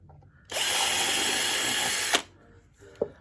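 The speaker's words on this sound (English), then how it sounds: "Get the drill bit in place and enlarge the hole by just sinking the drill bit in" A power drill enlarging a hole in an RC airplane wheel spat runs loud and steady for about one and a half seconds and then stops, followed by a couple of faint clicks and a light knock.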